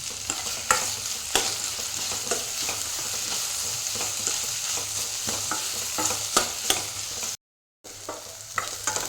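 Onions, green chilies and curry leaves are sautéing in a pan, giving a continuous close sizzle broken by frequent scraping stirs, with a brief silent gap near the end.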